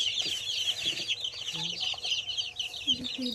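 Chickens on a small poultry farm cluck and chirp continuously at close range, with a dense, busy chatter and a few faint low sounds beneath it.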